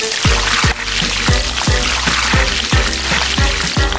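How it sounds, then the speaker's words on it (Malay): Water pouring from an elephant-shaped toy watering can, falling in a rhythmic series of regular plops and splashes about every quarter second over a bright, constant trickling hiss. "Dalam set ni ada penyiram bentuk gajah. Ada air kat dalam."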